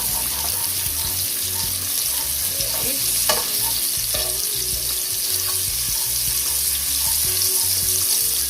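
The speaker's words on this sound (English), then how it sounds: "I'm just going to saute these just a little bit." Vegetables sauté for Jamaican vegetable rice, a continuous close sizzle and frying hiss with occasional stirring clinks and scrapes, steady and loud throughout.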